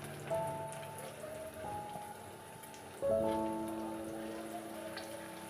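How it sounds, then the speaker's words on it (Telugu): Cauliflower pieces deep frying in hot oil for gobi 65, a steady crackling hiss with fresh bursts of bubbling as more pieces drop in, close and without talk. "ఇవి కూడా బాగా ఫ్రై అయిపోయినాయి"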